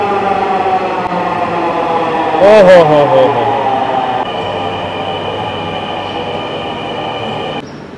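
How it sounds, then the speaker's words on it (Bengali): A Dhaka metro train pulls into Shewrapara station with a loud steady rumble of rail noise and a brief squeal of wheels partway through, while a person exclaims and voices carry over the din. "আর ঢুকে গেল অলরেডি একটা ট্রেন, দারুণ দেখতে কিন্তু ট্রেনগুলো।"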